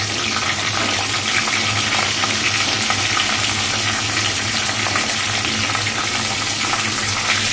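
Whole spices crackle and sizzle steadily in hot oil for tempering: bay leaves, dried red chillies, cardamom pods and a pinch of cumin seeds, a close, continuous frying hiss that stays even throughout.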